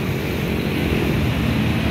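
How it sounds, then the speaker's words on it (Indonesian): A Dongfeng R175 single-cylinder diesel hand tractor with radiator runs steadily, a loud, close, continuous engine drone with a dense rapid thrum and no pause or voice over it. "Traktor capung diesel Dongfeng"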